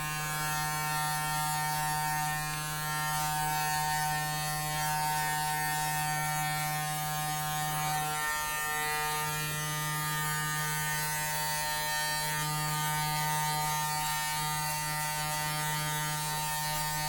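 Electric hair clippers fitted with a #1 guard run steadily while cutting hair for an all-over buzz cut at home, a close, constant motor hum with small shifts in tone as the blade passes through the hair.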